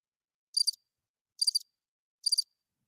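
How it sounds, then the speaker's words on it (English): Crickets chirping in three short, evenly spaced bursts, each a quick high trill, clear and isolated against silence. "Did you hear the crickets?"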